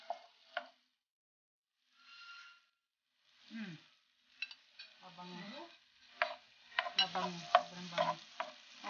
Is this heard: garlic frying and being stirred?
yes